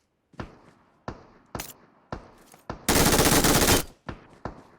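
Gunfire in PUBG Mobile: several sharp single shots spaced about half a second apart, then a loud sustained automatic burst, followed by more quick single reports.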